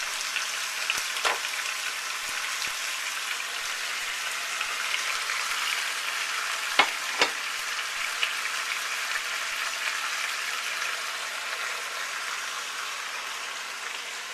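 Chicken thighs for Thai red curry sizzle steadily in a hot pan, a continuous even crackle like light rain, with a couple of brief louder pops midway and no talking.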